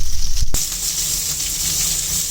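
Pieces of pointed gourd and potato fry in hot oil with a steady, bright sizzling hiss. A short knock comes early, then the even frying carries on close and fairly loud.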